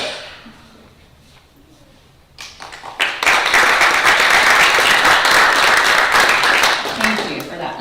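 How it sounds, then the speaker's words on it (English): A city council meeting audience breaks into applause after a proclamation, a quiet room giving way to dense, sustained clapping from a crowd that holds steady for several seconds. "Thank you for that unprompted applause."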